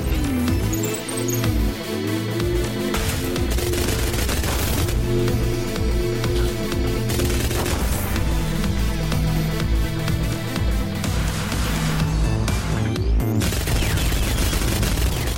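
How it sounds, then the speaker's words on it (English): Machine gun fire against mechs in the video game Hovership Havoc, a dense, continuous burst of rapid shots under a steady musical soundtrack, with occasional heavier booms, loud and sustained throughout. "Now let's see how well the machine gun works against these mechs."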